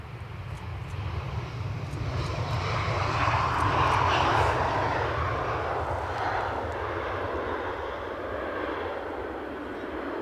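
Airplane on final approach at Edinburgh Airport, a steady engine roar that swells toward the middle and holds continuous and fairly loud throughout, with no talk.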